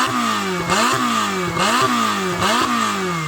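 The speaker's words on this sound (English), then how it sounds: "let's have a listen to the Ferrari with its turbochargers" Ferrari 488 Pista turbocharged engine revving hard in repeated bursts, each rev climbing sharply then dropping back, about four pulses in quick succession, loud and close.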